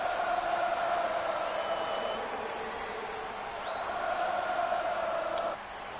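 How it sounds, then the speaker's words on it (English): An arena crowd at a wrestling event in WWE 2K26 sings along to Seth Rollins' entrance theme: a sustained, droning chorus of many voices that holds steady, dips briefly midway, then cuts off near the end. "And the crowd singing his entrance"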